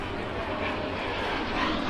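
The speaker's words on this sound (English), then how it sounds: "Same time we have a jet flying overhead" A jet aircraft flying overhead during a 12U youth baseball game, a broad steady roar filling the whole clip at a constant loud level, with faint voices underneath.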